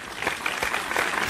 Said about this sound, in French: Si vous pensez que Brett doit gagner